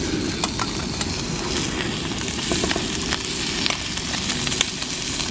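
Steak sears in a pot outdoors with a loud, continuous sizzle and crackle, close up and steady, with occasional faint clicks over the frying hiss.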